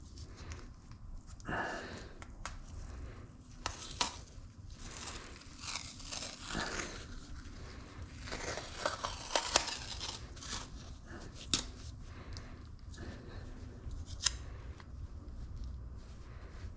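Masking tape is pulled and torn in short rips and crinkles while packing a Vance & Hines muffler for an RMZ 250 dirt bike, a series of close, irregular tearing and handling sounds.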